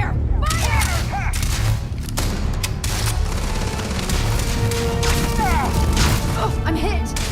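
Rapid bursts of gunfire in the Starfield video game, repeated sharp shots and booms in quick succession with whistling energy-weapon sweeps, loud and close, with voices shouting between volleys.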